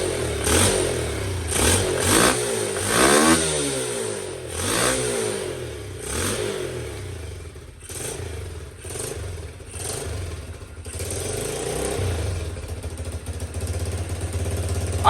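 A Honda CT110 motorcycle with a 22 mm carburetor starts on one kick and settles into a loud, close idle, its engine revving up and down in uneven surges before holding a steady rumble, with no talk.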